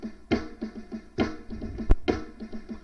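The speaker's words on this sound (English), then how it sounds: "Metronome are just an instrument they use to make a steady beat." A metronome keeps a steady beat, with evenly spaced clicks about every 0.3 seconds. Every third click is accented and stronger, and there is one sharp extra knock partway through. No one speaks.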